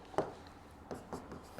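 Chalk or marker writing on a board during an integration maths lecture: a few short, quick scraping strokes, fairly close and quiet, with no talk.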